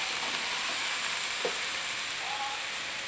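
Broccoli fries in hot oil in a pan, giving a steady, even hiss and crackle of sizzling, with a brief faint clink partway through.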